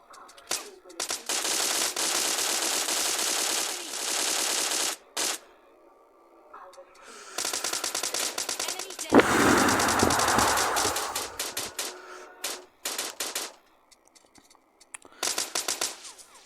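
Long bursts of loud automatic gunfire in PUBG Mobile Lite, stopping and restarting, with a heavy explosion-like blast in the middle and short scattered volleys near the end.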